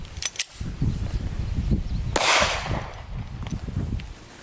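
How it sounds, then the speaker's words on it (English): A full-size MMP 9 pistol firing 9mm rounds at a Lamborghini bumper: a couple of quick sharp cracks early on, then a louder shot midway with a lingering ringing tail, all nearby. "Next up we have the 9mm out of the MMP 9"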